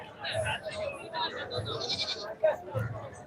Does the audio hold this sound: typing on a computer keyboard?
no